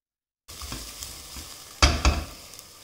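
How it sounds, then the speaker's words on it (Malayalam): Sliced green chillies sautéed in butter and coconut oil for a Kerala-style vegetable stew, a soft steady sizzle with two sharper stirring scrapes near the end, close and alone. "പിന്നെ ഇതിലേക്ക് എരിവിനായി ഞാനൊരു മൂന്ന് പച്ചമുളക് സ്ലൈസ് ചെയ്ത് ഇട്ട് കൊടുത്തു. അതുകൂടി വഴറ്റിയെടുക്കാം."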